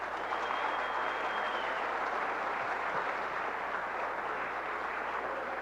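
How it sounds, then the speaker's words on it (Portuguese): An audience at a talk gives steady, continuous applause, a uniform moderate wash of clapping without pauses, over a faint low hum. "pedir pra galera dar uma salva de palmas pra você"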